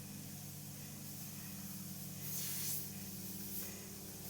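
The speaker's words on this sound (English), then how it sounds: "adding some of those deeper creases by being up nice and close with my airbrush, only pulling back a little bit and moving that airbrush as I go" A soft, steady airbrush hiss sprays paint freehand, working up close to add deep creases to Joker face makeup around the mouth. The faint spray swells twice as the brush moves, and no one speaks.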